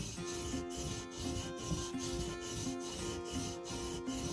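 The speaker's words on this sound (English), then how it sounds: "you press it flat down onto the stone" The flat back of a chisel is rubbed on a sharpening stone with steady, even back-and-forth strokes, a soft close scraping with a regular rhythm of about one stroke per second.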